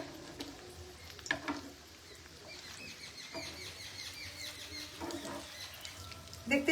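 Paneer kofta balls fry gently in oil with a quiet, uneven crackling sizzle, broken by a few soft clicks and taps, one louder cluster near the end.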